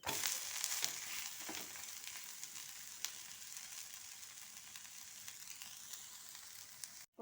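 A tomato dosa cooks on a hot pan with a soft, even, continuous sizzle, fairly quiet and close, with a few faint crackles and no voices.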